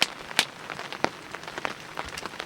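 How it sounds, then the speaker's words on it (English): Steady rain pattering at a lakeside campsite on a cold, misty morning, with scattered drops striking close by against a soft continuous hiss, no voices. "And the rain is settled in."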